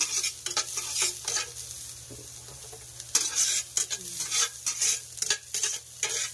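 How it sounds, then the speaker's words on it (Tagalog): Ingredients for fried rice being sautéed in a pan, an active sizzle punctuated by frequent sharp scrapes and taps of a spatula, uneven in rhythm and close up. "So guys, ayan na. Ginigisa na po."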